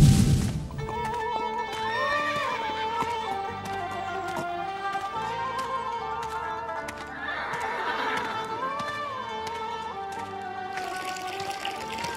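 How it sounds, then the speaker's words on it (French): Tethered horses at a camp in scorching heat neigh and whinny repeatedly, the calls rising and falling over a steady bed of shuffling hooves and background sound. "Ces chevaux attachés ne sont pas en mesure de boire tout seuls."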